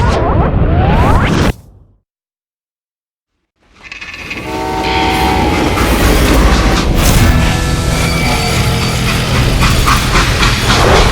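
A freight train in the Western game Call of Juarez Gunslinger rolls loudly along the rails with heavy rumble, rhythmic clatter and screeching metal, following a brief moment of silence.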